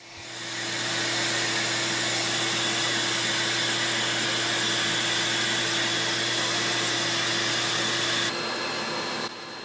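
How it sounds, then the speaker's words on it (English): A Festool CT dust extractor connected to a Kreg pocket hole jig spools up and holds a steady, loud whine, then changes tone as it starts to wind down near the end. "I had to do the same thing after I hooked my Festool CT up to"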